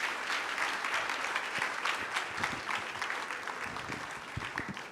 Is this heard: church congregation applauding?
yes